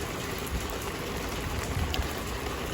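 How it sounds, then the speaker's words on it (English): Rain falls steadily on a town square near an office building under repair, a continuous even hiss of drops on hard surfaces, fairly soft and unbroken, with no voices. "It's raining on the square."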